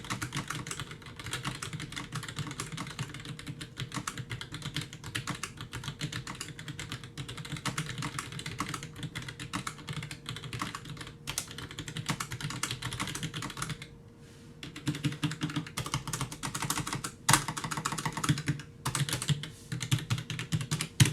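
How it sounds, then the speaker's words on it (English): Close-up typing on a Roccat Vulcan 120 Aimo keyboard with Titan switches, a rapid continuous clatter of keystrokes with a brief pause midway before the typing resumes at the same pace, with no talking. "I'm going to lean in here kind of close to the keyboard and give you a little bit of a typing test."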